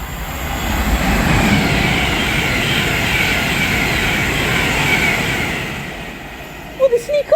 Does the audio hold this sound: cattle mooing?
no